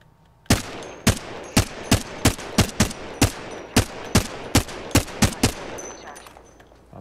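Apex Legends gunfire rings out as about fifteen sharp, loud shots in a fairly steady rapid rhythm, each with a short tail, over a continuous game background.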